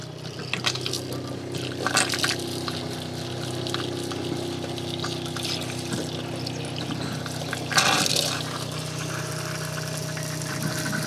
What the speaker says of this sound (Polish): pompka musi zaciągnąć wodę